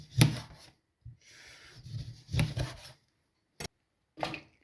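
A knife slicing through a lemon on a wooden cutting board, several short scraping and tapping cuts in an irregular rhythm with brief silences, close and moderately quiet.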